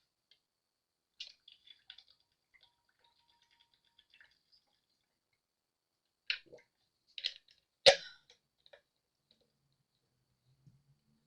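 A few faint, isolated throat-clearing noises and one sharper cough in an otherwise quiet room, spaced irregularly.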